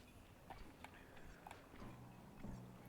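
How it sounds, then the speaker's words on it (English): An alarm clock ticks in the stealth video game Bentley 2, giving a faint, regular tick-tock of evenly spaced clicks about once per second under quiet game ambience, with no voice. "Which is why I recently purchased this alarm clock."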